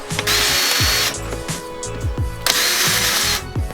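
A power drill backs out Phillips head screws from the dash of a Nissan 350Z Z33, whirring loudly up close in several short bursts with brief pauses between them.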